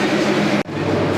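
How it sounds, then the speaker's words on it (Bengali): A train at Chittagong railway station junction, with trains standing on both sides, gives a steady loud rumble that is briefly cut by a sharp break, then continues. "এই যে দুই পাশে দুইটা ট্রেন"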